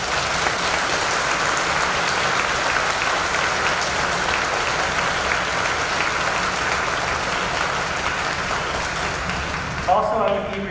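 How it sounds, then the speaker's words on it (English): A large audience at a school commencement ceremony applauding in a dense, sustained wash of clapping that holds steady for several seconds before tapering at the end. "Let's give them a big round of applause."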